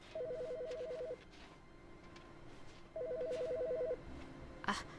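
A telephone in the video game The Stanley Parable: Ultra rings in two rapid trilling bursts separated by a pause, fairly faint, followed by a short sharp click.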